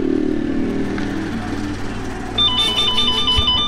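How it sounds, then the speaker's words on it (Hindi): An electric scooter's anti-theft alarm kicks in partway through, sounding loud, rapid, alternating electronic beeps over low background noise from the surroundings. "ये अलार्म अप होने लग गई"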